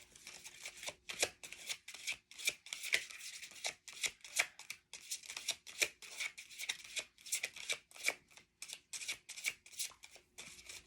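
Oracle cards are shuffled by hand in quick repeated riffles, each bout a crisp, close papery flutter with brief gaps between, over a quiet room with no talking.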